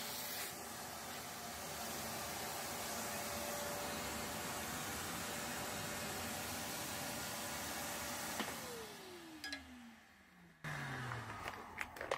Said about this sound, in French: Toujours avec aspirateur et une brosse.